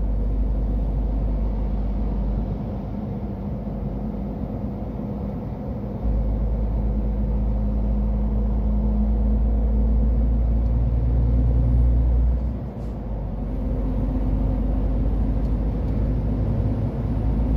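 Cabin of a car on the Bordeaux ring road at rush hour heading for the A10 motorway, with a steady low road rumble and engine drone, a brief dip around the middle, and no speech.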